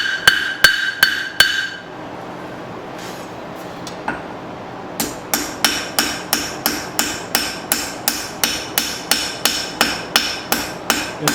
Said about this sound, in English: just tapping, plenishing, smoothing, no heavy hitting. I'm pretty much just letting the hammer bounce off